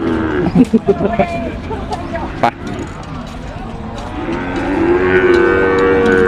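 Cattle at a Thai cattle and buffalo market, with several close, loud moos in quick succession at first and a long low bellow later, over crowd chatter, passing vehicles and nearby talk.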